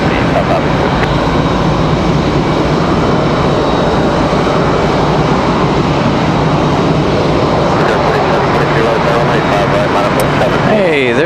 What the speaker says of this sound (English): Hey, there's our party jet, tri-jet.